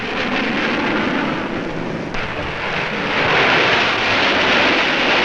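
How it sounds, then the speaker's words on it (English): A Ryan X-13 experimental delta-wing jet lifts off vertically at Edwards Air Force Base with a steady, loud jet roar that swells slightly toward the end, mixed with wind rush. "A new experimental jet that needs no runway is tested at Edwards Air Force Base."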